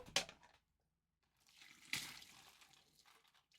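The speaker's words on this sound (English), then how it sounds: "You're going to dump out your water," Pasta water is poured out of a pan, starting with a short splash, then a pause, then a longer trickling, sloshing pour that gradually tapers off, fairly quiet throughout.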